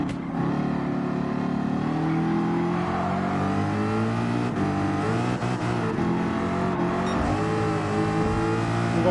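A Ford Mustang Gr4 racing car in the video game Gran Turismo 7, engine droning loud and steady with rising and falling revs as it races in a pack, no talk.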